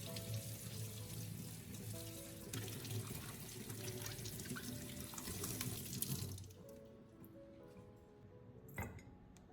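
A kitchen tap runs steadily into a sink as vegetables such as onions, parsley and garlic are washed, a constant close splashing flow that cuts off near the end, leaving a faint trickle and a brief clatter.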